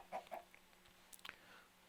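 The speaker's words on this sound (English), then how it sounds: "I've got some chickens in here somewhere" A few soft, quiet clucks from video game chickens in Minecraft-style skyblock, brief and scattered, with faint chirpy sounds in the background.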